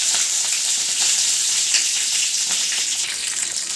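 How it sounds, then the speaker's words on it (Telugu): Chopped green chillies fry in hot oil with a loud, steady hiss and crackle, close by and with no talk. "తర్వాత ఆయిల్ పెట్టుకొని దాంట్లోకి కట్ చేసుకున్న పచ్చిమిర్చి వేసుకోవాలి."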